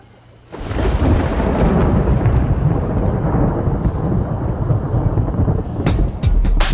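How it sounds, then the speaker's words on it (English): Loud, close thunder rolls on steadily for several seconds after a sudden onset, with heavy rain-like rumble underneath, during a thunderstorm at an outdoor car show in Manti, Utah. "the thunder and lightning just keeps happening"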